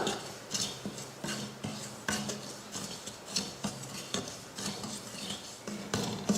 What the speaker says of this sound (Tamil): ஒரு கடாய் வச்சு ரவையை நல்லா மணம் வர மாதிரி வறுத்து எடுத்துக்கலாம்